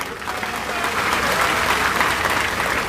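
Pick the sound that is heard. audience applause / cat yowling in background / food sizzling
audience applause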